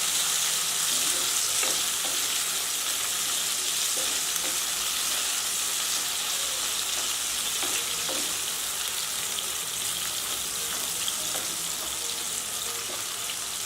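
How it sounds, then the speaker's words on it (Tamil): Raw plantain pieces fry in hot oil with salt and turmeric for an Aadi Perukku rice dish, a steady close sizzle with occasional scraping stirs throughout, no voices. "ஒரு ஹாஃப் குக் வர வரைக்கும் இந்த வாழைக்காய் இந்த எண்ணெயிலே நல்லா பொரிஞ்சு வெந்து வரட்டும்."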